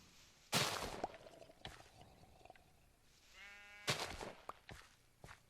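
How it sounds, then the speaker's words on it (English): A Minecraft sheep bleats a couple of times, fairly faint and distant, with soft footsteps and scattered rustling around it. "I hear a sheep, at least."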